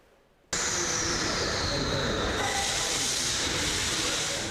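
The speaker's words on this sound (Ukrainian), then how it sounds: "Кілька людей у вагоні та майже безлюдний перон. Це станція метро Деміївська зараз." A subway train at Demiivska metro station in Kyiv starts abruptly after a quiet moment, then carries on as a loud, steady hiss and roar of wheels and rails that barely fades.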